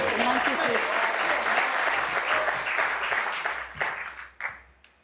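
A snooker crowd at the World Grand Prix applauds loudly after a potted ball. The clapping is dense and sustained, then tapers off into scattered claps while a commentator talks over it.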